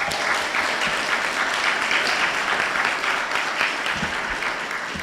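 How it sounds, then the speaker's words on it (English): Sustained audience applause at a scholarship foundation gala, a dense, even wash of many hands clapping at steady volume throughout, with faint voices beneath. "your applause is much welcomed"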